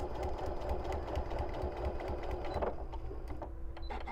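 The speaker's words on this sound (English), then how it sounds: "Did you hear my machine be just a little loud when we're going through all those seams?" A sewing machine stitches steadily through thick fabric seams while foundation paper piecing a quilt block, its motor running loud and continuous throughout, with a few small clicks near the end.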